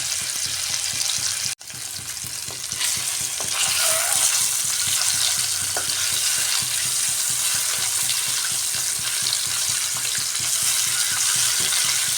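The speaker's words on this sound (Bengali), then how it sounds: "এই তেলের মধ্যে হলুদ দিয়ে মেখে রাখা ডিমগুলো ভেজে নিচ্ছি।" Turmeric-coated eggs frying in hot oil for a coriander-leaf egg curry, producing a loud, continuous crackling sizzle with occasional spatters, a brief dip early on, and no voices.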